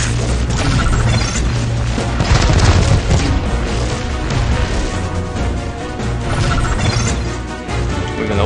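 Loud, dense explosions and crashing impacts from bombs in the Transformers Earth Wars mobile game, a continuous barrage of booms and smashes running throughout with no pauses.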